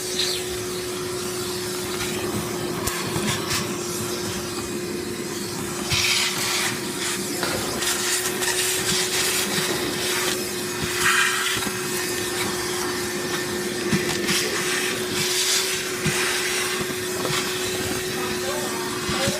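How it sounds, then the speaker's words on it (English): A shop vac runs steadily, vacuuming debris out of the bottom of a refrigerated display case during de-icing, with a constant hum and a scraping, rushing texture. "he'll start vacuuming the bottom of the case with a shop vac"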